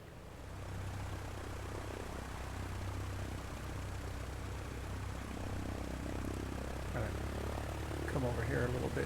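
A Cessna 152 piston engine taxiing in Microsoft Flight Simulator 2020 holds a steady low propeller drone throughout, with a voice talking briefly near the end.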